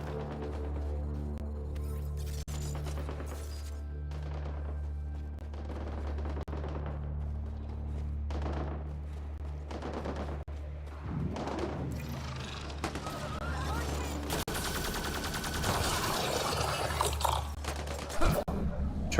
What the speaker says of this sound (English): I hear gunfire. Better go.